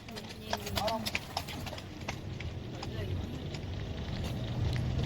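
Horse hooves clip-clop at the Giza pyramids, a few distinct strikes early on, then fading into steady wind and crowd noise, with people talking nearby.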